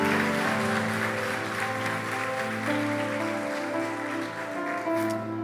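A church congregation applauds, a broad, continuous wash of clapping over a sustained musical backdrop that holds steady and fades slightly at the end.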